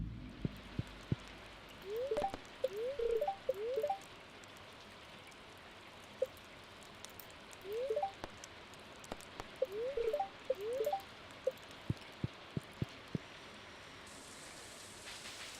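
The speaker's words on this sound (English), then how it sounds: "And see, the rain" Rain falls in the video game Stardew Valley as a constant soft hiss, with light chirping tones and scattered small clicks over it at intervals.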